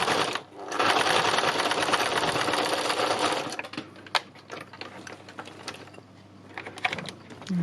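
A sewing machine runs a simple straight stitch, whirring loudly and steadily for about three seconds before stopping, followed by scattered mechanical clicks and handling noises nearby.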